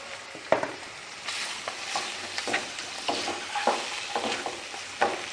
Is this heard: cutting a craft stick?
no